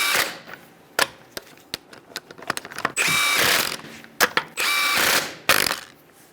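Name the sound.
ratchet with 21mm socket tightening Kia Soul wheel lug nuts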